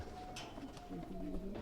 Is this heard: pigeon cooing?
yes